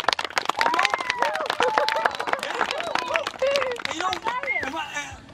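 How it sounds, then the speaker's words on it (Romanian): Audience clapping at a church sermon among Roma families in Romania, lively and uneven, mixed with children's excited voices and crowd chatter. "Hai să aplaudăm pe amândoi."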